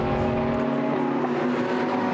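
A GT race car, a Ferrari in Blancpain GT endurance practice at Monza, roars through the Curva Grande with a loud, sustained engine note that shifts pitch slightly as it passes.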